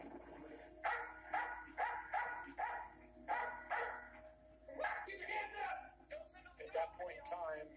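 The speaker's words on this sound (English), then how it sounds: "send the dog up to the hole." A police dog barks repeatedly during a burglary callout, sharp rhythmic barks and yips in short bursts, fairly close, with voices mixed in among them.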